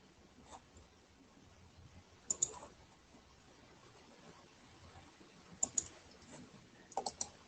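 A few sharp mouse clicks while editing shapes for a flip card in drawing software, heard as separate short taps and small pairs against a quiet background with long gaps between them.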